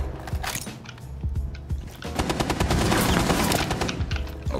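Gunfire in Rainbow Six Siege: scattered single shots and clanks give way to a loud, sustained burst of automatic fire, close and dense, with no talking.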